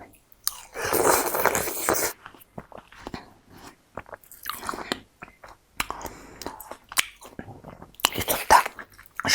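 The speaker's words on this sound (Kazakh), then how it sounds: "арбуз жеймін." Juicy watermelon being bitten and chewed up close, wet crunchy bites and squishy mastication in bursts with short pauses between them, no talking.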